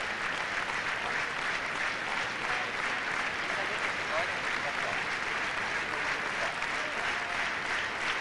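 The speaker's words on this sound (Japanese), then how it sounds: "クリモワ・ポノマレンコ拍手に応えて再びリンクへ出てきました。" Steady, even applause fills an Olympic arena after a figure skating exhibition at the 1992 Albertville Games, heard at a distance and sustained without break.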